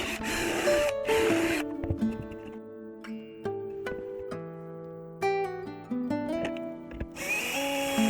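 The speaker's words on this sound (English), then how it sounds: "Then we'll drill and countersink the holes on the front panel." A power drill bores and countersinks holes in the front panel of a wooden bird box, with loud, harsh bursts of drilling at the start and end and steadier tonal sound in between.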